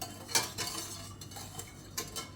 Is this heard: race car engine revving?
no